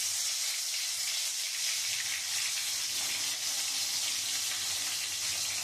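Hilsa fish wrapped in bottle gourd leaves fries in oil in a wok, giving off a steady, dense sizzle and hiss that holds evenly throughout with no voices.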